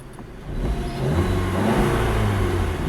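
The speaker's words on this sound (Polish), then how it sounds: "ostatnim testem będzie test obrotów" A 2016 SEAT Leon Cupra 290 ST with its 2.0-litre turbocharged inline-four and stock exhaust revs up under an open hood, climbing from a low rumble to a sustained, loud roar that holds steady, close by.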